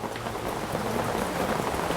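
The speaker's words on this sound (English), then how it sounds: "listening to the percussion of the rain" Steady rain falling and pattering on surfaces, a dense even hiss with scattered drops, continuous and close with no voices.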